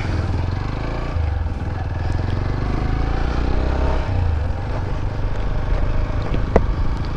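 A motorcycle is ridden while its rider demonstrates counter-steering, producing a continuous low engine drone with road and wind rumble and a brief clatter near the end.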